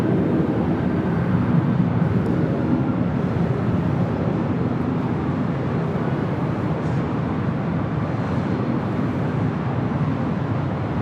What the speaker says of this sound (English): Spirit Airlines Flight 595 coming in from Oakland, an A320 Neo